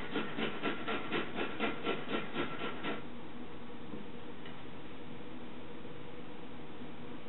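Fresh unpeeled ginger is rubbed across a grater in about a dozen quick rhythmic scraping strokes over three seconds, followed by quiet background hiss.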